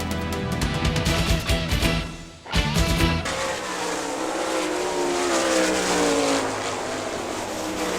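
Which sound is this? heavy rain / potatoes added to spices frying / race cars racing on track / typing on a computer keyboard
race cars racing on track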